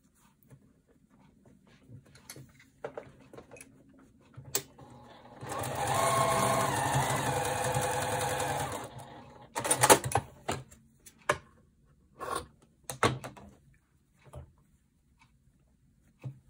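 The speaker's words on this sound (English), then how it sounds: "Now we're going to take this to the sewing machine and add some borders." A sewing machine stitches borders onto a small scrappy heart quilt block, running in one steady burst of about four seconds, with quiet handling taps and clicks scattered before and after.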